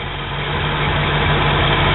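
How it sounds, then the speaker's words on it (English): A 1983–85 Ford smog-era engine idles steadily and alone, a continuous low rumble with a constant hum underneath and no talk over it. "this is an 83 to 85 smog motor"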